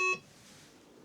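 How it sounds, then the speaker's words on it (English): A Tesla Model 3/Y sounds a short, clear electronic beep from its boot button at the very start, then only faint room noise. "by holding the button in, you'll hear a long beep"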